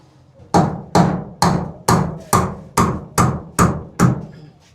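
Nine evenly spaced, sharp hammer blows ring out at close range on a bathroom construction job, each strike hard and ringing before fading quickly, with no talking.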